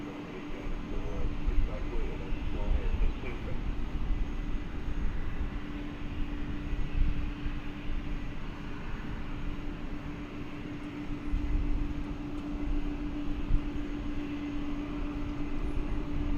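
Jet airliner rumbling on the ground at DFW Airport, a continuous low engine roar with a steady whine, heard from a distance under faint background sound.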